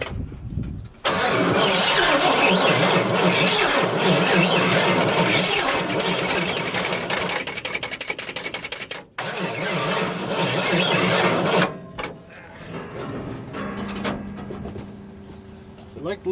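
A 1969 C50 truck with a big block engine, parked for decades, cranks and fires, running roughly and loudly with a squealing belt before cutting out briefly and restarting, then settling to a quieter idle with voices in the background.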